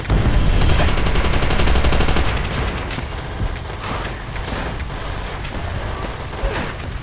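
Enemy machine gun fire in the video game Call of Duty: World at War, a loud rapid burst for about two seconds, then continuing scattered gunfire and distant booms at lower level.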